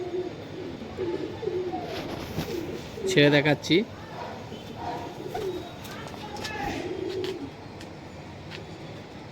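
A Pakistani high flyer pigeon gives soft coos and a short louder burst of calls amid other birds, while someone talks over it nearby.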